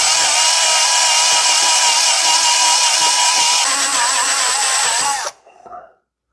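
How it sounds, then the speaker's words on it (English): A loud power drill whines steadily into a metal oil pan for about five seconds, its pitch shifting slightly, then cuts off and winds down. "grab a drill and start drilling this pan"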